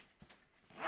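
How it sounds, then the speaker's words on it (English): Zipper pulled open on a side opening of a Peak Design backpack, a short quiet rasp that swells louder toward the end, close by with no talk. "there's another section that you can unzip here that has different compartments in it"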